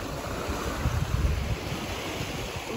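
Ocean waves wash in at Bellows Beach on Oahu's east side, a steady surf roar swelling briefly midway, mixed with wind buffeting.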